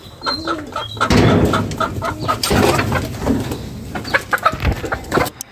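Backyard chickens clucking and squawking in a pen near pigeons and doves, a busy flurry of overlapping clucks and flutters close by, loud in bursts and then trailing into scattered short calls.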